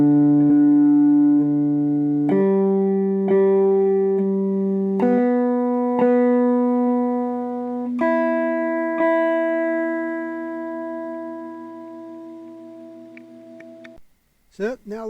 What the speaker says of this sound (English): So you can hear the delay.